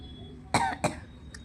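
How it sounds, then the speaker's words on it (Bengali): Two short, sharp coughs close together, fairly close and clear, followed by a faint brief sound in a quiet room. "খুব কাশি হয়েছে জানো বন্ধুরা"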